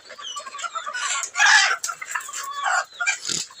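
Vaccinated farm chickens, lively and excitable, cluck busily and overlap in a dense, close flock chorus with short bursts and a crowing call, no talking.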